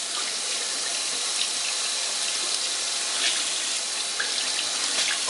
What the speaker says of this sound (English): I'm gonna make this water a little hotter.